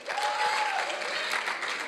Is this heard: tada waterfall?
no